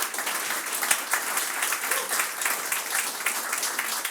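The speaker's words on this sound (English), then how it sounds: "But first, a round of applause for Ivo." A dense round of audience applause at a tech conference talk on Ethereum smart wallets, steady and full throughout without speech over it.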